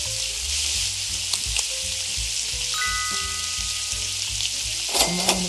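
Steak frying in a cooking video game, a steady bright sizzle running throughout with musical game tones and chimes layered over it.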